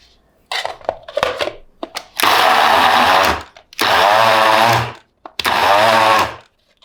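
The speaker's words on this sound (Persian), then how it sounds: "این باید چرخ بشه که حسابی دستشون بره تو دست هم دیگه" A grinder processes a herb kofta mixture in loud, close motor bursts. Short stuttering pulses come first, then three sustained grinding runs, each about a second or more, separated by brief pauses.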